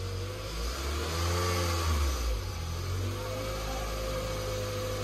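A car that has sat unused with a flat battery, jump-started from an external battery, revs as the accelerator is pressed, swelling to a peak and then settling back to a steady hum, moderately close and fairly quiet.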